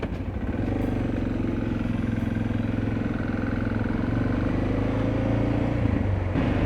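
A motorcycle registered in Colorado idles and rumbles steadily at a border crossing between Mexico and the United States in Tamaulipas, a continuous close engine drone with some mechanical clatter and no talking.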